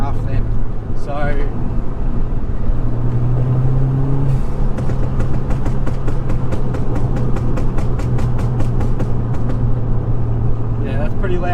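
Exhaust pops and bangs from a car running a Collins Performance CP2 map, heard from inside the cabin: a loud engine drone with a long run of rapid, evenly spaced crackling pops in the second half.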